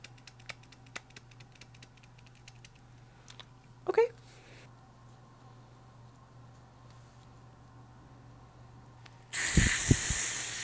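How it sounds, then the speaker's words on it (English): Hairspray from an aerosol can hits a microphone during hair styling, a loud, harsh hiss bursting in near the end after a quiet room with faint ticks and a brief murmur of voice. "I sprayed my mic."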